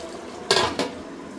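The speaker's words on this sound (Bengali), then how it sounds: "কষতেছে মাংস।" Meat braising in a pot is stirred, with two sharp metallic scrapes and clanks of a utensil against the pot over a low background hiss.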